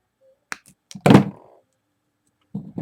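Wire snipped off with cutters while wrapping wire around a metal skeleton key: a few sharp close clicks and taps, then one louder dull thunk with a short ringing tail, a pause, and a final muffled knock.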